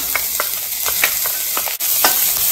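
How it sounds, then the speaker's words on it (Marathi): Chopped garlic, green chili and grated ginger sizzle in hot oil for a veg Manchow soup, a steady close frying hiss broken by rhythmic stirring scrapes and a brief dip. "हे सगळं आता ह्या तेलामध्ये घालूया।"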